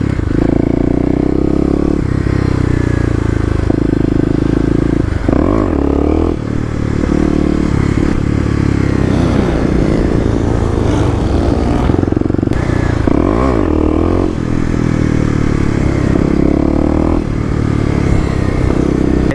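Kawasaki KLX250 dirt bike engine revving hard in second gear during wheelie practice, a loud continuous close-up roar rising and falling with throttle blips throughout.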